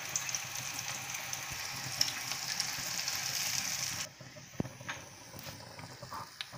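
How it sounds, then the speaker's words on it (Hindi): Puffed rice (murmura) fries in hot oil for a Diwali poha chivda, a steady close sizzle that suddenly drops after about four seconds to a quieter hiss with scattered crackles and pops. "तो हम इसको, ये मुरमुरे को तलेंगे।"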